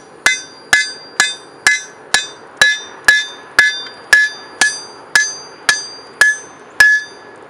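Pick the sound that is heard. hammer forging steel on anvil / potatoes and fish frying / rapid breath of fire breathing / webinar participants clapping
hammer forging steel on anvil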